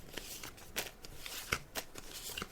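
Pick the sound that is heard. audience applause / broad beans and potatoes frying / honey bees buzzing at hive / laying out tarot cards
laying out tarot cards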